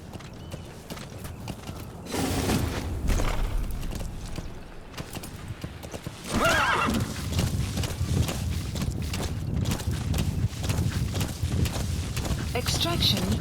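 Rhythmic hoofbeats of a horse galloping in the video game Metal Gear Solid V: The Phantom Pain, steady and moderately close, with a couple of louder surges and game ambience underneath.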